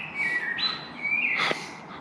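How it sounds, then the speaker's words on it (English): Woodland birds sing at sunrise with clear, whistled phrases, a few sliding tonal notes and a bright chirp near the end, moderately close against a soft outdoor background. "birds are singing"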